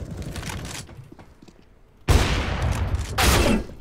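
Gunfire in Counter-Strike: Global Offensive: a sudden loud burst of shots kicks in midway, with a second louder volley near the end, after a quieter stretch of game noise.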